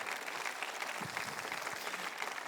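A church congregation applauds, steady dense clapping heard at a distance and fairly faint throughout, with no speech over it.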